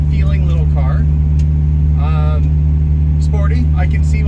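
Historic racing Lancia Appia GTE driven from inside the cabin, a steady loud engine drone with a low rumble throughout, with a voice talking over it in brief bursts.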